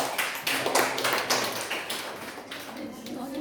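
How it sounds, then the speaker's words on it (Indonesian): Applause from a class audience after a microteaching practice session, a dense continuous patter of clapping hands that fills the room at steady loudness. "Oke, beri aplaus buat Mas Martina."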